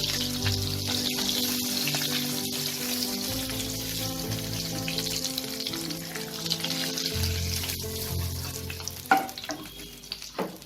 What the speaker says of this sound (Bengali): এবার এই পিঠটাকেও আমি এরকম লাল করে ভেজে নেব